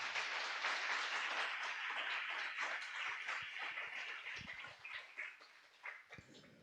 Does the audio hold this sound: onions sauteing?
no